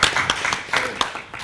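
Scattered claps break out from an audience at a community consortium meeting: a handful of uneven, sharp hand claps over about a second and a half, fairly close.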